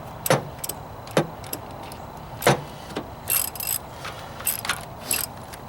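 A ratchet clicks in short bursts while snugging a brass thermo fan switch into a Chevy Venture van, with sharp close metallic ticks and pauses between strokes and no talking.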